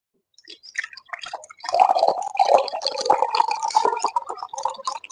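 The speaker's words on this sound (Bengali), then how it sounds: "এবার আমি এমনি ঢালছি আস্তে করে," Homemade humic acid liquid is poured slowly, beginning with a few sparse drips and then turning into a steady, close gurgling trickle of splashing liquid that keeps going to the end.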